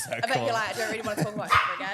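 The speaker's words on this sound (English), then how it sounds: "We have a bulldog today. Apologise for the barking in between." A bulldog barks a few short times indoors during a podcast recording, its yips and barks mixed under steady conversational talk between people.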